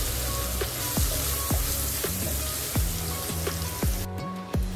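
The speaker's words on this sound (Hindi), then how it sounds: "ये डाल के हमें पनीर को लाल करके लेना है।" Paneer with turmeric and salt fries in a pan, giving a close, constant sizzle broken by sharp pops and spatters, alone with no talk.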